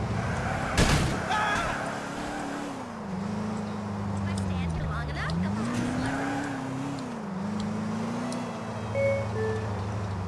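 Car engine from Grand Theft Auto IV, a steady droning hum whose pitch rises and falls as the vehicle speeds up and slows down, running continuously with faint game ambience above it.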